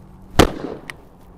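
A single sharp gunshot from an old English shotgun fired at a clay target, one loud close blast with a short decay, followed by a faint brief pop.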